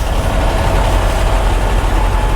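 Trucks sit idling in a large Iowa truck stop parking lot, a steady, close, heavy diesel rumble with faint knocking texture and no voices.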